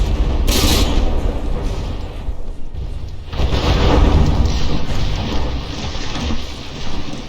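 Heavy naval gunfire from a battleship turret in From the Depths: a loud, dense volley of booming shell blasts rolling into one another, with a brief lull before a second sustained burst of overlapping cannon fire.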